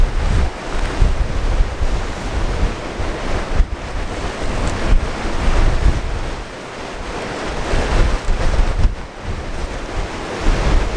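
Strong wind buffets the microphone on the North Cornwall coast while ocean surf crashes and rolls below, the roar surging and easing in waves over several seconds.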